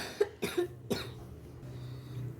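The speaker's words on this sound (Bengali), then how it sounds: "কাশি আবার শুরু হয়েছে" A boy coughs at home, three sharp coughs in quick succession at close range, followed by quieter room noise.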